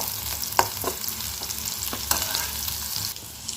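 Chillies frying in a pan for Tamil banana stem kootu, a steady close sizzle with occasional scraping stirs of a spatula and no talk.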